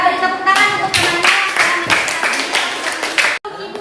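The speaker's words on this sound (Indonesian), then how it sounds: "Beri tepuk tangan untuk temannya." Students in a classroom clap for a classmate, a loud burst of hand claps with dense, uneven rhythm that runs for several seconds before cutting off abruptly.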